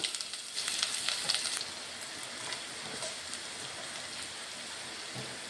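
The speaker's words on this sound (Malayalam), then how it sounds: "ആദ്യം തന്നെ നമുക്ക് 2 മണി ഉലുവ പൊട്ടിക്കാം" Fenugreek seeds crackle and sizzle in hot oil in a pan, a faint hiss with a brief busier popping burst at first that settles into a quiet steady fizz.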